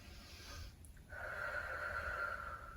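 A yoga practitioner takes deep breaths, a soft nasal inhale followed by a longer, steady, slightly wheezy exhale, close and quiet.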